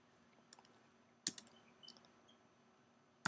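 Sparse keystrokes on a computer keyboard while entering a Fire Dynamics Simulator input file, a few scattered taps and a short burst of clicks in a quiet room, with no talking.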